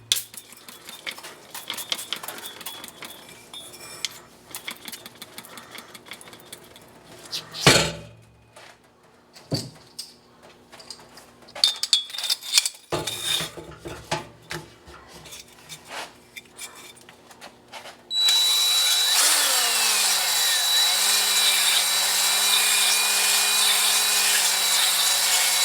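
Cylinders from a 1974 Porsche 911 get scuffed with a power tool. The first part is irregular scraping and tapping, then a loud steady whine runs continuously to the end.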